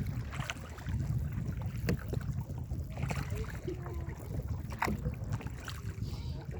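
A kayak paddles through water at Kosi Bay, with soft intermittent splashes and paddle strokes over low wind rumble, fairly faint and close.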